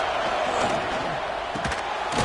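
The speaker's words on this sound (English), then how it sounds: "Listen to this crowd just shaking the girders of this place, trying to help their defense." A loud stadium crowd roars steadily at a football game as fans try to help their defense, a dense wall of cheering with a few sharper bursts of noise toward the end.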